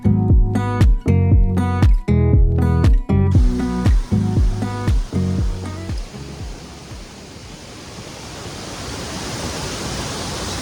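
A few seconds of rhythmic tonal pulses give way to a steady, broad rush of falling water at Thirumoorthi Falls, Thirumoorthi Hills, that roars on continuously.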